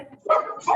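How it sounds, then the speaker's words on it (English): Dogs give two short, sharp barks close by indoors, loud and abrupt in a brief moment. "my dogs are barking heavily now"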